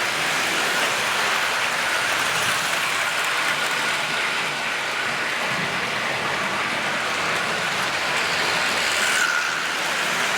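Steady, hissing whir of a small model Winston Churchill locomotive running continuously with its train, a smooth rushing noise and no talking.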